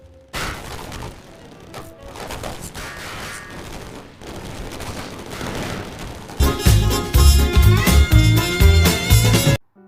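Bursts of gunfire from the Insurgency Source mod, sharp shots and rattling volleys echoing at mid distance, growing to a loud rapid barrage near the end, with no talking.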